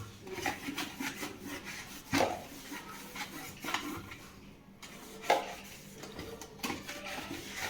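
Soft, irregular cloth rubbing and wiping sounds recur close by while cleaning a mixer grinder's motor body, with a few light knocks against a hard surface.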